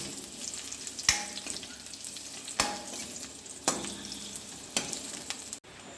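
Dates cooking in hot ghee with a steady frying sizzle throughout, and a few sharp scraping stirs of a spoon against the pan spaced about a second apart.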